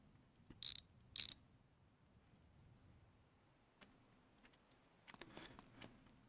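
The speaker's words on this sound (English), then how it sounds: "let's quickly get this caliper off" Tools working on a brake caliper of a BMW E36: two loud sharp metallic ratchet bursts early, then quiet clicks and a cluster of clattering mechanical knocks near the end, close and without talk.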